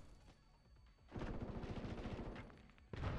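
Rapid automatic gunfire from The Division 2 bursts in loudly after a quieter moment and rattles on steadily for about two seconds, with another sharp shot or impact right at the end.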